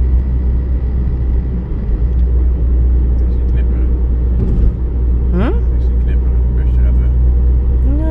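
Small bus pulling away in street traffic, a heavy low engine rumble close by with passing road noise and a voice talking over it.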